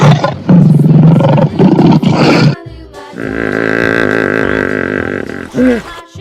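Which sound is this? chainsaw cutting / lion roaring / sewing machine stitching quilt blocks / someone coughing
lion roaring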